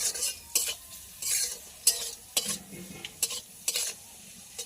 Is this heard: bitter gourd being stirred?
yes